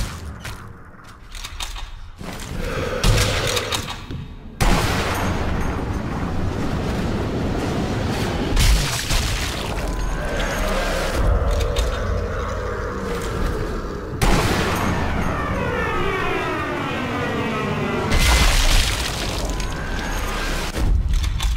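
Gunfire and explosions from the video game Sniper Elite: Nazi Zombie Army, dense and loud, with bursts of shooting, heavy booming blasts and rumbling that fill the whole stretch without pause.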